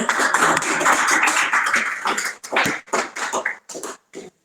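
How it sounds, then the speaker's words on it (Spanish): Students in a university electroacoustics lecture applaud, a loud burst of many hands that thins after a couple of seconds into a few scattered, separate claps before dying away. "Un aplauso, por favor."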